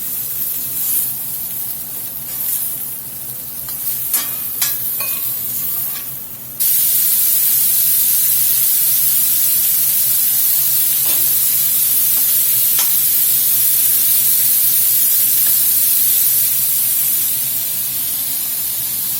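Beef pieces fry in a hot pan for stroganoff, a few scraping stirs at first, then a loud, steady sizzle as a new batch drops in and hisses on without pause.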